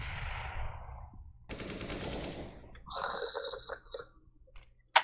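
Bursts of rapid gunfire in a CS:GO match, a sustained rattling volley in the middle followed by a shorter burst and a sharp final crack, fairly faint overall.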